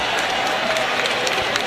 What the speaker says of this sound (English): The crowd showing their approval and their appreciation.